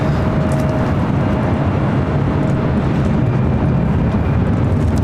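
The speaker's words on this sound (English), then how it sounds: "Seeing the A380 crossing over here shortly." An Airbus A380 airliner crossing at LAX gives off a steady, broad jet roar at a distance. The rumble holds evenly for several seconds with a faint tonal hum and no voices.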